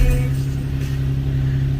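An Infiniti G37 engine idles steadily with fluctuating RPMs, a low constant hum with a strong droning tone and a slight unsteady pulse, heard close with no talking.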